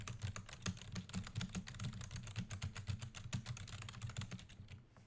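Rapid typing on a computer keyboard, a dense run of close, crisp key clicks in an uneven rhythm that trails off near the end.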